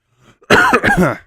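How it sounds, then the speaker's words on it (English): A single close, loud cough bursts out in two quick harsh hacks after a faint breath, then stops. "there's going to be a lot of coughing, a lot of spluttering from myself"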